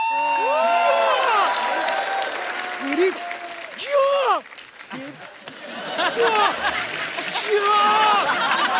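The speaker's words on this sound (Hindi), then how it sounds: "सेलिब्रेशन, जोरदार तालियां" An audience at a comedy show applauds and cheers. Clapping runs steadily under several voices that speak and whoop with rising and falling pitch.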